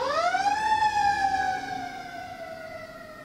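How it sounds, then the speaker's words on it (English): An ambulance siren wails outside as it passes, its tone sweeping up, holding steady, then sliding down and fading slightly as the vehicle moves off, loud and clear with no talking over it. "If I go quiet for a second, we're all just going to enjoy the sirens together."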